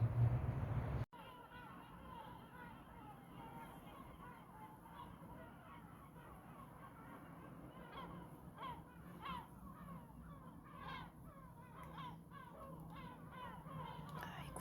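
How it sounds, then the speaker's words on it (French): Gulls call repeatedly in short squawking bursts from a moderate distance, over a steady background hum after a brief opening noise. "les mouettes vous offrent un concert et leur présence"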